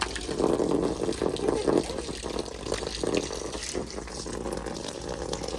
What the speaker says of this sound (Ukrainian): З такими темпами вода набиратись буде довго.